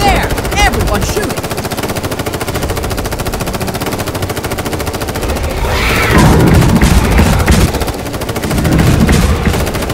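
Soldiers in a film fire on two charging dinosaurs with loud, sustained rapid automatic gunfire and scattered heavier bursts, continuous for the whole stretch, with faint shouting voices mixed underneath.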